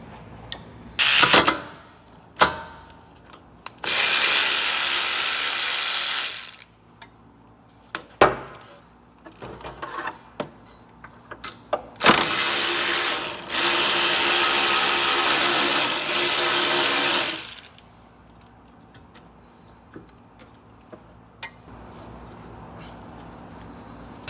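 Ratchet wrench with a socket loosening a ball joint bolt on a Lexus IS300: short clicks, then two long sustained bursts of rapid ratcheting, close and loud with quiet gaps between.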